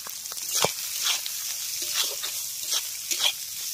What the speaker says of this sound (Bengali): এবার আগে পেঁয়াজ আর মাছের মাথাটাকে একটু ভেজে নিচ্ছি